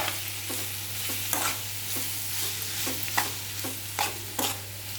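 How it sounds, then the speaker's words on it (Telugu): Coriander powder frying with prawns in a pan, a constant crackling sizzle under a low steady hum, with regular scraping strokes of a spoon roughly every half second, near and unaccompanied by speech. "ధనియాల పొడి వేసుకొని కాస్త ఒక రెండు నిమిషాలు వేయించుకుందాం"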